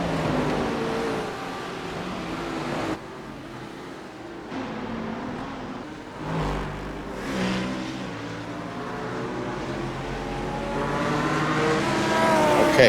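A C7 race car in a racing video game passing on a straight, its engine roaring and revving as cars sweep by, rising and falling in pitch, loud and near.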